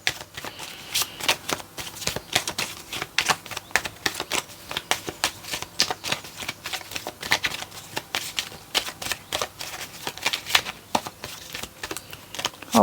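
Tarot cards are shuffled by hand in quick, crisp riffles and flicks, a close, rapid, uneven rustle that runs without pause.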